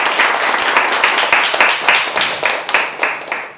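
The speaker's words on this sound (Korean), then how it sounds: "주님께 영광의 박수를 드리겠습니다" A church congregation applauds in dense, continuous clapping that stays steady and fairly loud throughout, with many hands overlapping and a few sharper claps standing out.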